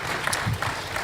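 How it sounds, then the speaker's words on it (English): Audience applause for panelist Rick Rasmussen at a conference in an amphitheater, a short, moderately loud burst of clapping from a seated crowd. "Please, round of applause for Rick."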